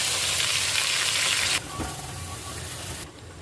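Gongura leaves sizzling in a little hot oil in a pan, a loud, bright hiss that drops abruptly partway through, then settles into a quieter, fainter sizzle.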